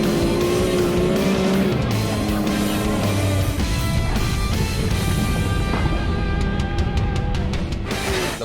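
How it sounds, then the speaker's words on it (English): A Can-Am Maverick X3 in two-wheel drive hammered through muddy off-road corners, its engine revving hard and rising and falling in pitch with gear changes, loud and continuous with rattling and tire noise. "With this thing in 2-wheel drive, we hammered it in and out of the corners, floored it through the straightaways"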